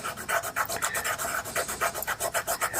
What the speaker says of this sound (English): a little bit of white, a little bit of yellow, and rub it with your finger